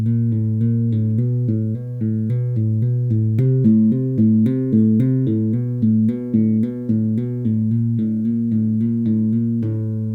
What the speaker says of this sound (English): then we're going to play a hammer-on and a pull-off on each finger in turn.